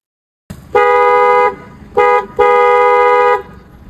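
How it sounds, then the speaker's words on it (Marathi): A loud aftermarket Creta-type horn fitted to a Swift Dzire sounds three times: a long blast, a short toot, then another long blast, clear and close. "आणि हे बघा हॉर्नचा आवाज"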